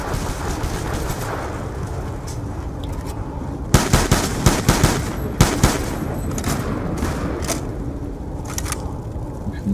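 Gunfire in Call of Duty Black Ops II Zombies on the Nuketown 2025 map, steady loud weapon fire with a heavier cluster of sharp, punchy shots in the middle, running continuously with no speech.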